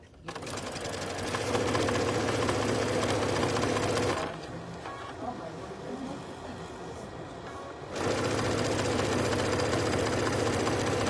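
A sewing machine runs steadily while stitching a table runner mat, a dense mechanical whir that pauses for about four seconds mid-way, with quieter handling sounds, then resumes at full speed.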